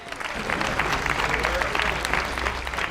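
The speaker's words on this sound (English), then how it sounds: "That's worth a round of applause." Audience applause at an outdoor municipal band concert in Band Shell Park, Ames, a sustained crowd clapping with a steady dense texture, fairly loud and continuous throughout.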